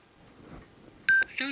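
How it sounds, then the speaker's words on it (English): A Bluetooth motorcycle helmet headset powers on and links to a sat-nav and phone, giving a short steady electronic tone followed by a quick cluster of beeps near the end, after faint room noise. "So we'll turn the headset on, and hopefully you'll hear the sounds inside."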